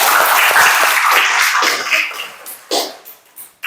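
A class of students claps in a short burst of applause, a dense patter of hand claps that thins out into a few scattered claps and coughs near the end.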